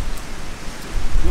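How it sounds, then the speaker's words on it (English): Rain falling on a campsite at Loch Tummel in Scotland, a brief, close, steady patter and hiss. "There's rain on, guys."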